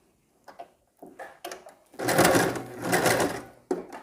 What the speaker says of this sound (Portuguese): Vou fazer agora a costura, ponto reto, aqui, aplicando o cós na cintura da saia